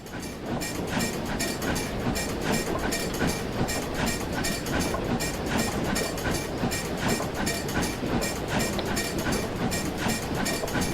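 Steam locomotive on a Train Sim Classic Brockenbahn hill climb, steady loud rumble with rhythmic clanking of the reverser and track clatter throughout, no voices.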